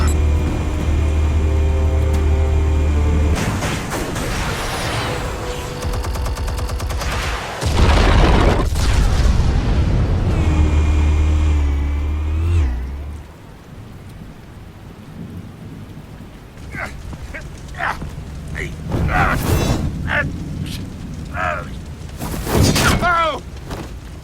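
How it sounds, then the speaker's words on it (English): Explosives detonating in the Batman video game: heavy rumbling booms and a long rolling roar that fades, then scattered debris crackles and lighter impacts, loud and close. "Explosives armed. Fire when ready."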